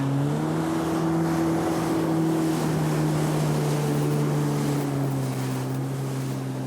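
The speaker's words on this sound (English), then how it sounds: "I had taken the wave runner out to Cook Strait" A wave runner jet ski out on the open sea of Cook Strait, its engine droning steadily at close range with wind and water rush over the whole stretch, no voices.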